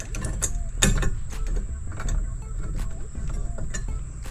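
A 13mm wrench tightens a nut on a UTV gun rack, giving steady close metallic ratcheting and clinking with scattered sharp taps over several seconds, with no voices.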